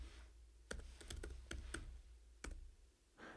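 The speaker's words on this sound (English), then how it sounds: "we're going to test this by typing in the URL" Keys clack on a computer keyboard while a URL is typed, a handful of separate crisp taps in an uneven rhythm, close and fairly quiet, then a brief pause.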